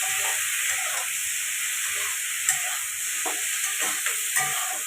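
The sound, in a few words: stir-frying onion stalks and potatoes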